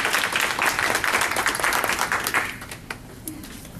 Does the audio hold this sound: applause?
yes